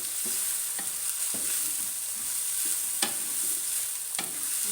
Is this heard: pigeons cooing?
no